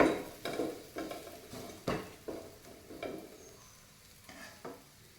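A masher works a spiced potato filling for mini samosas in a pan, giving a close series of soft, rhythmic squelching thumps about every half second. The thumps fade toward the end, over a faint sizzle.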